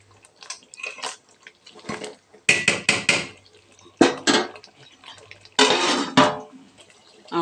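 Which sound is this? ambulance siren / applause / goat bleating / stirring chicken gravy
stirring chicken gravy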